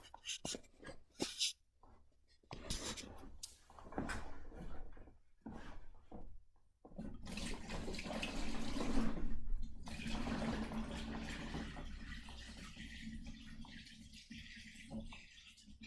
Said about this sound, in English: let me pour the hot water in here.